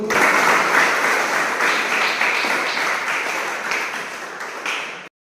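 A crowd at a Pawan Kalyan birthday celebration claps together in a dense, sustained burst of applause that runs for several seconds, then cuts off abruptly.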